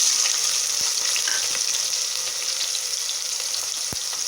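Chopped onion fries in hot oil with fennel seeds and cloves, a dense, continuous sizzle with a couple of light taps from stirring.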